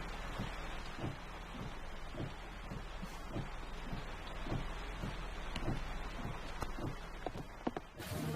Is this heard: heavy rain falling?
yes